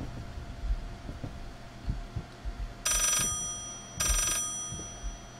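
Old telephone ringing inside a study in the horror game Layers of Fear. Two short, bright rings a second apart sound over low, dull thumps and a quiet ambient hum.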